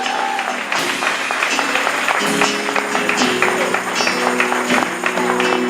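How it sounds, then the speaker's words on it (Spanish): A church congregation applauds together, a steady wash of clapping that runs throughout at moderate level, with faint music tones underneath. "Dale un aplauso a Jesús"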